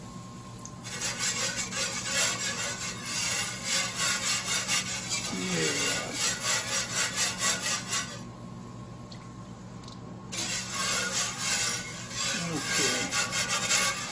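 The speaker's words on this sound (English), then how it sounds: "I think I'm doing more scraping than whisking" Whisk scraping and rubbing against a shallow pan as chicken stock goes in, a steady rhythmic rasp running almost throughout with two short pauses, and a few brief spoken words.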